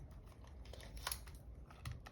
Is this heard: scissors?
yes